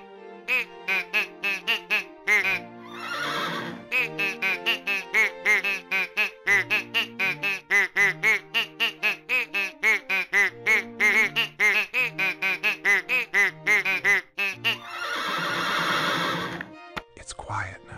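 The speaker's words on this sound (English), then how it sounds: "Quack, says the duck." Repeated cartoonish duck quacks come in quick rhythmic bursts from a children's animal story app, mixed with a short horse whinny and a voice narrating.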